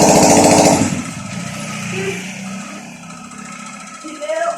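A motorcycle engine, with sand put into it and smoking, runs after being started: a loud buzzing rev for about a second, then a quieter, uneven idle, with someone talking over it.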